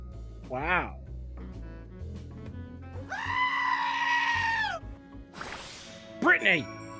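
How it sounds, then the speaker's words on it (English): Goat screaming in loud, drawn-out human-like yells, with a short wavering bleat before, a long sustained scream in the middle and quick cries at the end, over a low background hum. "That fucking screaming goat"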